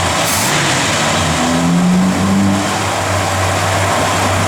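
A 1966 Dodge Coronet 500 with a mild cam idles close by, its V8 giving a loud steady rumble that briefly rises with a light rev before settling back to an even idle.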